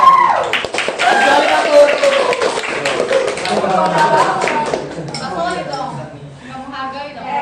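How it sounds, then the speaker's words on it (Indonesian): Classmates applaud together in a classroom, a burst of clapping that rises quickly then thins out, mixed with chatter and voices continuing as the clapping fades. "Sekali lagi beri aplaus untuk teman-temannya yang sudah berani mempresentasikan"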